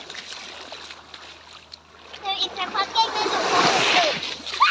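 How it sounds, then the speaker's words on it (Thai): Sea water washes up onto the beach at Manao Bay, Prachuap, building into a close, swelling splash and fizz of surf, with people talking over it. "น้ำทะเลซัดขึ้นมา"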